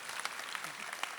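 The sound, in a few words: audience applause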